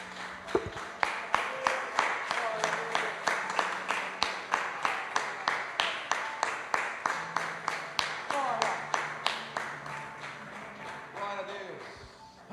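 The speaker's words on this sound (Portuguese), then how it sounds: "Aplauda com força." A church congregation claps in a steady, rhythmic beat, roughly two claps per second, close and loud, while voices and music carry on underneath.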